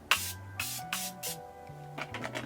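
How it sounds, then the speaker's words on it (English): Morphe Continuous Setting Mist sprayed in several short bursts, each a soft airy hiss fading quickly, close and fairly quiet, with faint background music underneath. "For my setting spray, I'm going to be using the Morphe Continuous Setting Mist."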